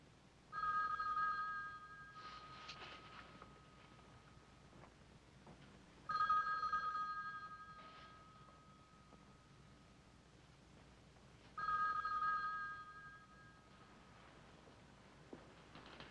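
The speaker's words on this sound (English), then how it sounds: "That phone's still ringing." An old-fashioned telephone bell rings three times, each ring lasting about a second and a half with long silent gaps between, heard in a quiet room in a 1960 film drama.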